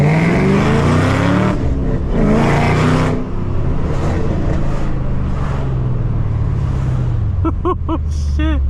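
A loud 650 HP Camaro ZL1 with manual shifting accelerates hard through the gears, its engine note sweeping upward in repeated pulls with breaks between shifts, then several quick sharp whoops near the end.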